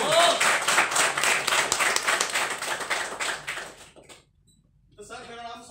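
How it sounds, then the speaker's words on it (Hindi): An audience breaks into loud applause, a dense burst of clapping that thins out and stops, followed by a brief silence and then a voice beginning to speak. "मैं चाहता हूँ आप लोग के लिए एक बार जोर से तालियां हो जाए।"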